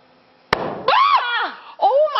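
A hydrogen-filled balloon lit by a candle bursts with a single sharp, loud bang, followed by excited shouts and screams from people close by.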